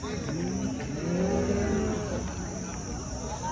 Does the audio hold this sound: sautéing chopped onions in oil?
no